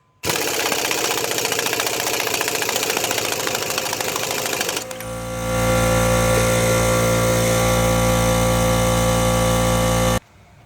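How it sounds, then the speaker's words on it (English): An impact wrench runs a 32 mm axle nut down on a 2013 Nissan Murano, a loud continuous buzzing whir for about five seconds that shifts into a heavier, lower grinding drone before cutting off. "tighten it with the impact"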